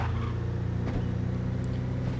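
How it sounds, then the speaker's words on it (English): Sheriff's car driving in the zombie survival video game State of Decay, a steady low engine drone running continuously and fairly loud throughout, with no one talking. "I'm just gonna drive my sheriff's car spattered with blood."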